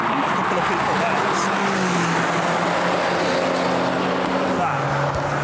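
A BMW 135i drives past on the Goodwood Motor Circuit, its steady engine drone shifting pitch as it goes by at moderate distance over constant track-side background noise.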